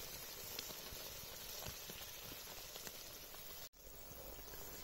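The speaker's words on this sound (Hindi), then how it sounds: "अब इसमें थोड़ा सा पानी डाल रहे हैं।" Water poured into a cooking pot of gobhi masallam at an outdoor jungle car campsite near Rishikesh, giving a steady, faint splashing hiss throughout with a brief dropout near the end.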